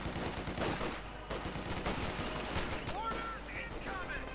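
Browning machine guns fire in a Company of Heroes 2 battle, rapid bursts of gunfire rattling amid a busy wartime din, with a game commentator talking over the shooting.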